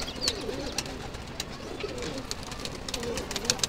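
Pigeons, including newly acquired paper-white birds, coo steadily in low repeated throaty calls close by, with light chirps and rustling around them.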